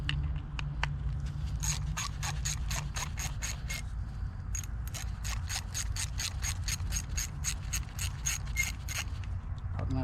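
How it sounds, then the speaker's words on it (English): A ratcheting wrench clicks in rapid, rhythmic bursts, close and clear, while two screws are loosened on a Mercury SportJet fuel pump with a 5/16 wrench, pausing briefly midway before resuming. "I'm using a 5/16 to get these 2 screws off."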